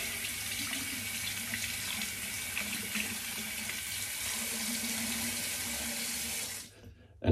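Tap water runs steadily into a sink, rinsing hair out of a HAMMER DE safety razor head, a continuous close hiss lasting nearly seven seconds before the flow cuts off.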